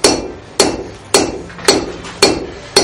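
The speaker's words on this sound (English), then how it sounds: "I'll hammer down to size and length" A blacksmith hammers a hot iron bar down to size at the Fort Gaines forge on Dauphin Island, Alabama, with six sharp, ringing blows spaced evenly about half a second apart, loud and close, with no talk.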